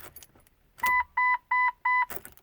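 A Jeep's ignition key warning buzzer sounds four short, even electronic beeps in quick succession, bracketed by the rattle and jangle of the key in a stiff ignition.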